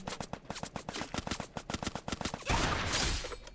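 Rapid gunfire in the Free Fire video game, a dense string of sharp, evenly spaced automatic shots followed by a louder, noisier burst near the end, with no speech.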